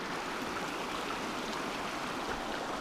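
A river stream rushing over rocks in the Uinta mountains near Red Castle, a steady, even wash of flowing water heard close and continuous without any voices.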